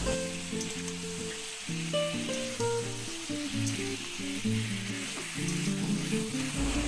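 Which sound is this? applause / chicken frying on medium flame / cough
chicken frying on medium flame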